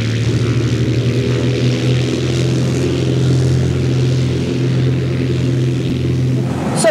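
Small propeller plane towing a glider across a grass field in Hungary: a loud, steady engine drone with a strong humming tone that holds constant throughout and fades slightly at the very end.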